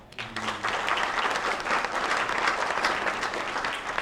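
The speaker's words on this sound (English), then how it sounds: "Big round of applause for Matt." A room of attendees at a county luncheon breaks into a dense, sustained round of applause that starts abruptly and stays loud throughout, with a brief voice at the very start.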